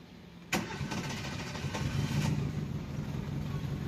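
A Chevrolet U-VA car engine with a faulty electronic throttle body runs rough with the AC on, a sharp start or clunk followed by an uneven, pulsing mid-level engine drone heard nearby.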